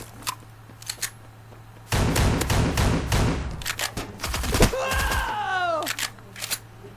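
Gunfire rattles in the mobile shooter game Forward Assault, with short bursts and single shots followed by a rapid automatic volley, in a game mix with frag grenade play and descending tonal effects.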